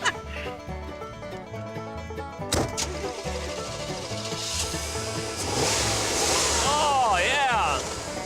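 A car engine idles and then builds as the vehicle pulls away, a steady low rumble rising in the latter half, with salmon cooking on the engine block and people talking over it.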